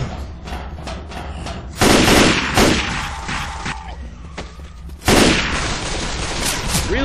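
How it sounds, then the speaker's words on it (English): Gunfire in the game Left 4 GoldenEye, loud repeated shots and bursts fired close, with two especially heavy blasts standing out amid a constant din of combat noise. "Damn it, stop shooting me!"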